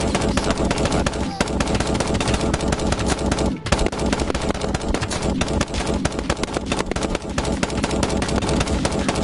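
Full-auto weapon fire in the battle game TABS, a dense, unbroken roar of rapid shots that carries on at high volume with only a couple of very brief pauses.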